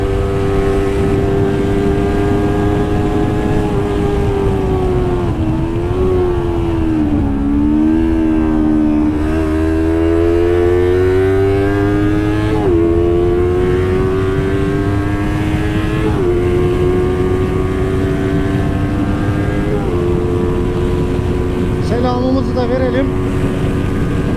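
A Yamaha R25 motorcycle engine revs hard at full throttle while riding, a loud, steady high-pitched drone that climbs and drops with each gear change and never lets up.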